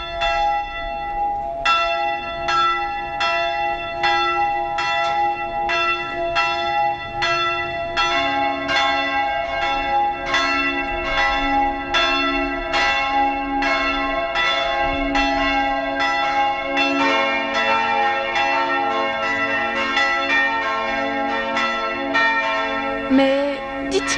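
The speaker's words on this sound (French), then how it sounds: "Déjà sonnent les cloches." Church bells at Saint-Pierre ring in a steady series of resonant strokes, several bells overlapping and growing denser toward the end, heard clearly with little else around.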